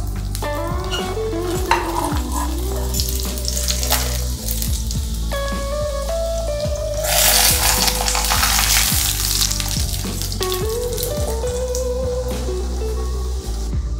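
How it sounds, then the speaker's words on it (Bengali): Keema paratha stuffed with chicken frying in hot oil, a steady bright sizzle that swells louder midway, with occasional clinks and scrapes of a utensil in the pan. "এবার একটু আমি তেলে ফ্রাই করে নিলেই হয়ে যাবে আমার কিমা পরাঠা।"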